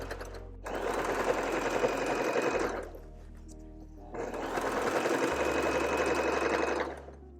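A sewing machine stitches a shirring row on an upcycled shirt, running in two steady, loud bursts of rapid whirring, each several seconds long, with a short pause between them.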